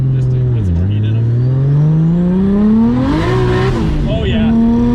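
A 700HP Nissan R32 revs hard with a steady rising engine note, tires squealing loudly as it heats them up on the street, with a brief dip and surge in pitch partway through.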